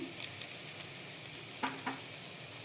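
Whole spices—black pepper, cardamom, cloves and cinnamon—sauté with onion in a pan for Malvani chicken curry, giving a steady low sizzle with two brief scraping stirs near the end.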